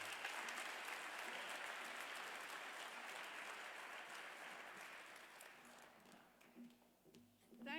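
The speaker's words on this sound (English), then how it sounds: "Give her a big round of applause, Senator Jane Hume" Conference audience at a FinTech startup demo day in Melbourne applauding to welcome a speaker, a broad sustained clapping that slowly thins and fades toward the end as a few voices and stray noises come through.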